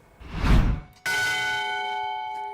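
A single bell struck once, ringing out with a clear sustained tone that slowly fades, preceded by a brief rushing noise.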